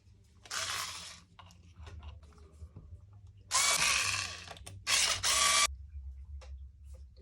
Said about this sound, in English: we have to remove these two bulkhead screws and this one